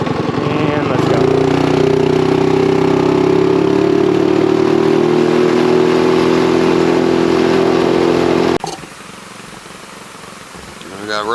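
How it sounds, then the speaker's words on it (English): A small go-kart engine runs loud and close with a steady droning tone that rises slightly in pitch as it passes, then cuts off abruptly into quieter background noise. "Do a little flyby on a go-kart real quick."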